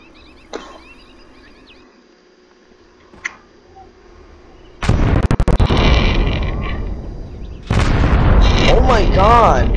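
Missile bombs detonating in the physics game Fling Things And People: a couple of faint early pops, then a loud heavy blast with a long rumbling tail, followed by a second big explosion that roars on to the end.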